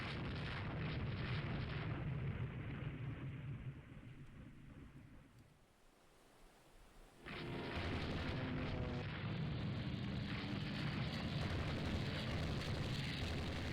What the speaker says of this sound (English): Unsighted is hit by a torpedo.